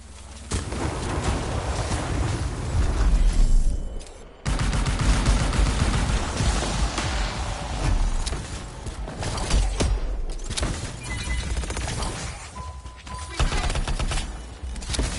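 Heavy gunfire in a PS4 video game, a dense, loud, nearly continuous barrage of overlapping shots that cuts out briefly once and then resumes at full intensity.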